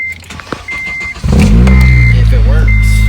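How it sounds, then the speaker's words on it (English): A car with a door-ajar chime beeping repeatedly, then the Acura RSX engine cranks and catches, settling into a loud, close idle rumble while the chime keeps sounding over it. "start the car"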